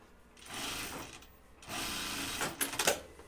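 A sewing machine runs in short bursts while stitching a seam, whirring up and stopping twice, then a longer run with a few sharp mechanical clicks near the end, close and fairly quiet.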